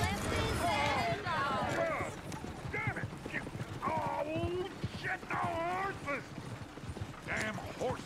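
Horse hooves clip-clopping in the video game Red Dead Redemption 2, a rhythmic trotting patter with creaking tack and a whinny, heard under lively overlapping voices talking and exclaiming.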